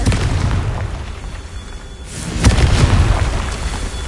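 A Confringo spell explosion in Hogwarts Legacy. A heavy booming blast is followed by a dip, then a second swelling burst of rumbling noise. It is loud and close, with no talk.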